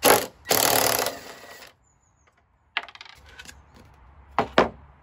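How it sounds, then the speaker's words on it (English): An impact gun works a 13mm bolt on the rear shock top mount of a MK6 Ford Fiesta ST150, with two loud, close bursts of rattling hammering followed by scattered metallic clinks and taps. "I'm just going to use the impact gun to try and get this off."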